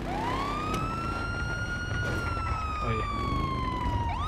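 A wailing police car siren in the video game GTA 5 holds a long rising-and-falling tone over engine rumble, loud and close, with a brief spoken word partway through.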